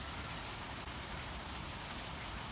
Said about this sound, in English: it's starting to rain a little bit, so the tradition of rain in the vlogs continues